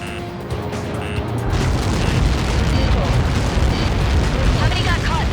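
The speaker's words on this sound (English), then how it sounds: "How many got caught in that explosion?" A massive Helios projectile impact explosion in the flight combat game Ace Combat 7, swelling into a loud, sustained, roaring rumble that fills the scene after a quieter opening.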